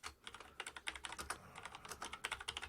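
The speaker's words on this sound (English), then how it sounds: "type in a message" Someone types a message on a computer keyboard, a quick, steady run of soft key clicks close by with no talking.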